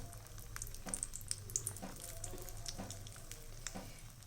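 An omelette cooks quietly in a pan, a faint soft sizzle with a few light crackles and small clicks from the pan.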